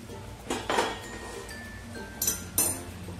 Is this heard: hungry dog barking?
no